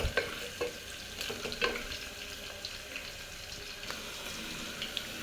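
Onions cooking on a low flame, a faint steady sizzle with scattered soft clicks and stirring taps in a quiet kitchen.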